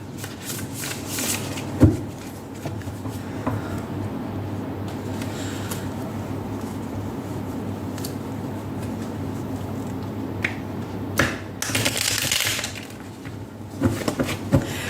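Tarot cards being shuffled close by, with soft riffling bursts and a few sharp taps and snaps, no talking.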